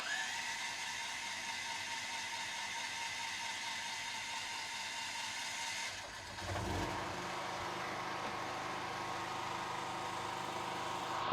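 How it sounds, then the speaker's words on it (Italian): A home generator set, converted for an off-grid house with solar power, runs steadily. It is briefly interrupted by a start-up burst of engine noise partway through, then settles into a continuous, fairly loud mechanical hum. "Quindi ragazzi accendo il gruppo elettrogeno, quindi avvio"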